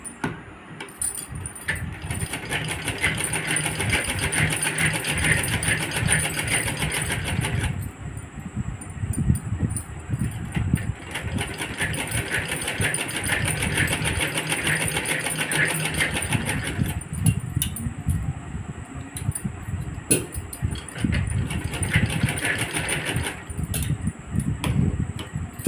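A sewing machine stitches a pouch made from a handkerchief, running in three long whirring bursts with short pauses between them, close and steady, with no talk.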